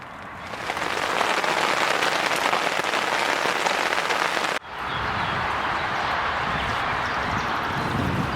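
Rain falling outdoors at a carp fishing lake, a dense steady patter close by that cuts off briefly, then resumes slightly softer.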